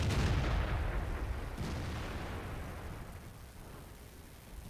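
A tank gun fires at an E4 in a tank video game, one heavy, booming report that rolls off into a long, fading rumble.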